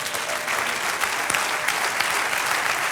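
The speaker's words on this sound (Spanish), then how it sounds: "Dale un aplauso al Señor." Steady, dense applause fills a church service as the congregation claps for the Lord, a continuous wash of many hands close and loud without talk over it.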